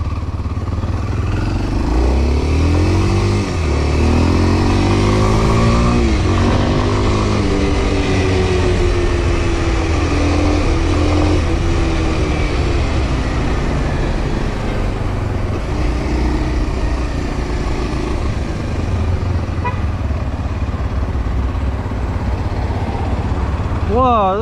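A used motorcycle rides along with a loud, steady engine drone and rising and falling pitch sweeps as it accelerates, heard close throughout while people talk over it.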